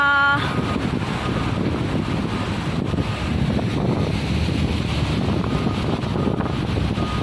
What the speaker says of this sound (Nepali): दिस इज रूपसे झरना।